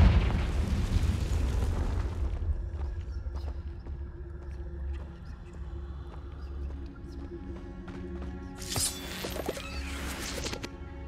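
A Confringo fire blast spell in Hogwarts Legacy bursts loudly at the start, then trails into a low rumbling tail under ambient game sound, with a second bright burst near the end.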